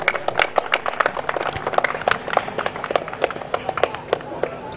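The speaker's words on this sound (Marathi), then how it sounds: "टाळ्या वाजवा मित्रांनो" An audience claps steadily at a cricket tournament prize ceremony. The applause is a dense run of sharp, close hand claps that keeps going the whole time.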